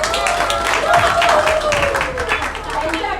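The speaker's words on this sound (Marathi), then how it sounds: "त्यांच्यासाठी टाळ्या." A family gathering applauds the trip helpers with sustained clapping from a crowd, steady and fairly loud throughout, while a voice talks over it.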